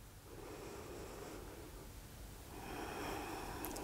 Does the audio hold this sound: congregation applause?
no